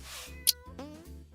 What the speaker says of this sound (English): Oh my god, there's more than one cat.